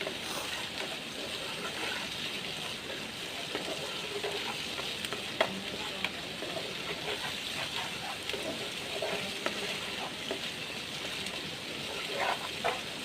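Shutki, a dried fish curry with chili paste, being stirred in a pan: continuous soft frying sizzle with scattered scraping clicks from the spoon against the pan, fairly quiet and steady.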